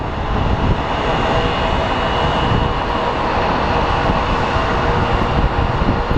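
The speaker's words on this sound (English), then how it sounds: "we have movement of the A319" An Airbus A319 jet airliner, formerly of America West Airlines, taxis at Phoenix Sky Harbor airport, its engines producing a loud, steady roar and rumble that stays constant throughout, with no talking over it.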